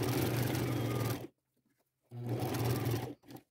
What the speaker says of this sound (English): I want to sew them on, and I'm going to use a zigzag stitch